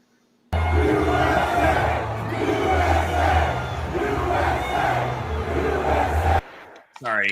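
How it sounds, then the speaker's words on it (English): A large stadium crowd at a Steelers football game roars and cheers continuously for several seconds, loud and dense with overlapping voices, then drops away abruptly. "went to the Steelers game and was wildly cheered by the crowd"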